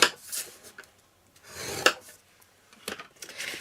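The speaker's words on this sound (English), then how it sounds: "Score that again." A hand scoring tool drawn across card stock for a tag-topper concertina card gives a few short, dry scraping strokes separated by brief pauses, close and fairly quiet.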